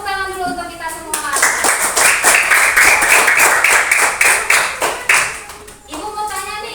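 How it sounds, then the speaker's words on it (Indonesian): A school class of children clapping hands together in a classroom, a brisk burst of rapid, close claps lasting several seconds, framed by a teacher's voice speaking before and after. "Tepuk tangan dulu untuk kita semua."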